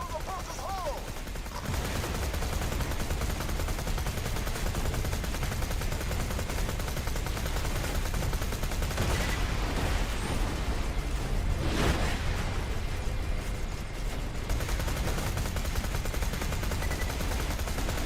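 Rapid, sustained gunfire from a battle in the video game Borderlands 2, a continuous barrage of closely spaced shots at constant loudness with a few louder bursts, after a brief quieter opening.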